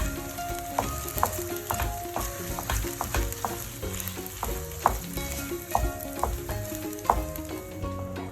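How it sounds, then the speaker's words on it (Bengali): Carrot sondesh mixture cooked with condensed milk is stirred in a pan, giving a soft, continuous sizzle with repeated scraping clicks from the spoon at an irregular rhythm, close and fairly quiet. "এরপরে আমি 1/4 কাপ কনডেন্স মিল্ক দিয়ে নাড়তে থাকি।"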